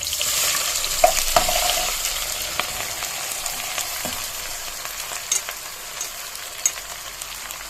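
Onions frying in ghee with browned lamb pieces in a pan, a steady loud sizzle close by with occasional stirring scrapes and taps throughout, no voices.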